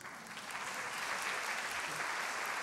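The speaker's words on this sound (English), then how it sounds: "Give yourself a round of applause." An audience at a 2010 Martin Luther King convocation at Augsburg bursts into steady, full applause that swells slightly and holds at an even level throughout, with no talk.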